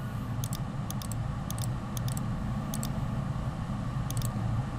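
Short clusters of crisp computer keyboard taps and clicks during CAD modeling, spaced every half second or so over a steady low hum, with no talk.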